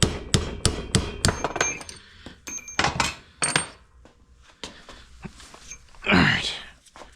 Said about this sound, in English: I have no choice but to use an extension and tap the rest of the way out